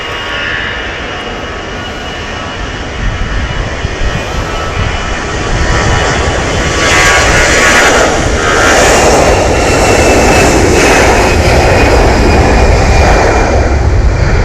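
A jet airliner takes off at Manchester Airport, its engine roar building from a moderate rumble to a loud, sustained blast that stays near and strong to the end.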